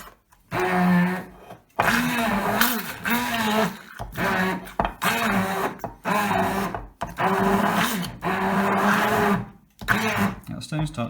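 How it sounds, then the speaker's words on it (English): Small hand blender whirring through banana cake batter, loud bursts that start and stop repeatedly, pitch dipping as it bites into the mixture, with brief gaps between runs. "And I'm going to use my favourite tool, the little hand blender."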